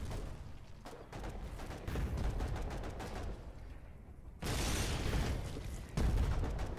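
Artillery shells firing in the video game Foxhole, with heavy booms and rumbling blasts that repeat over a low continuous din of battle, fairly distant and muffled.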